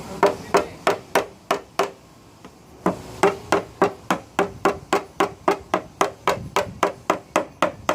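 A paintless dent repair hammer taps a dent out of a Subaru Crosstrek's car body in quick, evenly spaced sharp knocks, close and crisp, with one short pause before the rapid tapping resumes.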